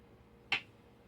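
A single sharp hand clap, made to sync a separate sound recorder, rings out once at close range in a quiet room, with no talking.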